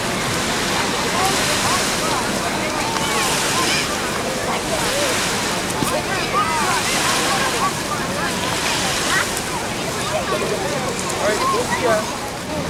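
Ocean surf at a Honolulu beach on Oahu, Hawaii, roars continuously as a broad, steady wash of breaking waves, loud and close, with a voice talking over it.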